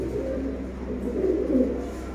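A lakha pigeon coos softly and continuously at close range over a low background rumble.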